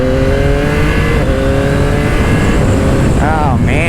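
A 2025 Yamaha YZF-R9 motorcycle engine revving while riding, loud steady drone under heavy wind roar, with pitch rising and a quick shift blip near the end; a rider talks over it.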